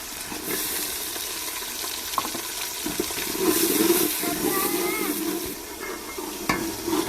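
Tomatoes go into a pan of frying onions, giving a steady close sizzle with wet spitting and stirring scrapes, a couple of sharp taps of a utensil on the pan, and a louder burst of hiss partway through.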